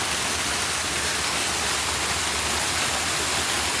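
A waterfall inside a glass-domed airport terminal at Kuala Lumpur International Airport rushes continuously, a steady broadband roar of falling water at moderate volume, unbroken from start to finish.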